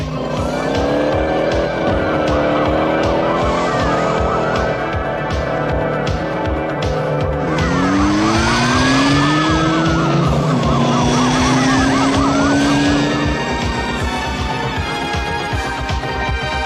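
Police car chase with wailing sirens sweeping up and down over loud, steady roaring car engines, dense and close throughout with no gaps.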